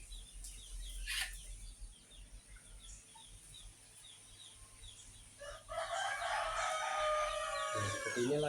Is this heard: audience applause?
no